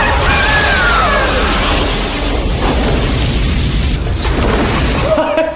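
Explosions rumble and boom through a film scene, a loud, dense wall of blasts and crashing debris with rolling low roar that stays steady for several seconds, ending with a sharper burst near the close.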